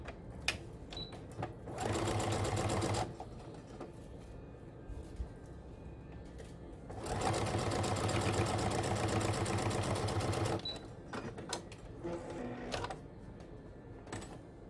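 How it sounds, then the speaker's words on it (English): Sewing machine stitching a quilt block seam, two loud rapid whirring bursts of about one and three and a half seconds with quieter handling and small clicks between them. "you're just going to sew that down with a scant 1/4 inch"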